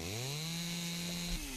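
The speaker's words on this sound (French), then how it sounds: "Ah, tronçonneuse peut-être? 3 fois plus de rondins." Chainsaw cutting trees in the House Builder video game: a steady, loud, buzzing engine whine held at one pitch, dipping briefly near the end as the cut finishes, with no talking.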